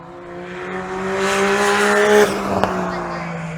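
A 660cc Honda Beat racing at Goodwood Motor Circuit, a buzzy high-revving small engine note swelling as the car passes close, then dropping away with a brief sharp tyre noise.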